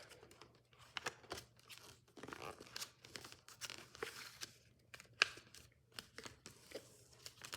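A sheet of paper is folded in half for an origami dart, with close crinkling, creasing and rustling handled steadily for several seconds, no voices.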